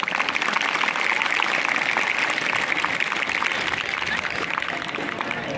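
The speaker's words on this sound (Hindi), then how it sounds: "तालियां फिर भी कम बज रही है।" Sustained applause from an audience at a school yoga demonstration, steady dense clapping that stays fairly loud and even throughout with no pause.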